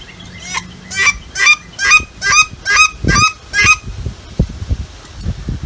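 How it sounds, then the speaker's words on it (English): A run of seven evenly spaced honking duck calls made in flight, loud and close, followed by softer rustling and thumps. "They make another sound when they're flying through the air"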